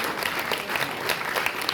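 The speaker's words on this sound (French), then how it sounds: "on les applaudit très fort" Applause from a comedy show audience, steady dense clapping filling the short moment, no voices over it.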